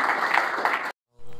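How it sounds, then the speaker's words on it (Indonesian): A church congregation breaks into dense, steady applause that stops abruptly, followed by a short silence and then a faint, low new sound. "Beri tepuk tangan terbaik buat Tuhan."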